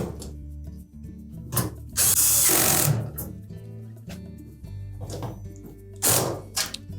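A power drill drives screws into a Samsung dryer panel during a spring replacement, with whirring bursts of motor that rise and stop, a loud rushing stretch in the middle, and clicks and clunks between runs, all close by.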